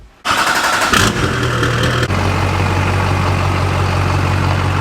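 A built Duramax diesel truck fires up with a sudden roar, revs briefly, then settles into a loud, steady diesel rumble up close.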